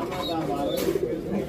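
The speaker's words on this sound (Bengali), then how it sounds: "এখানে আরো কবুতর আছে" Pigeons at a crowded pigeon market make low, murmuring coos that blend into the busy background while people talk nearby.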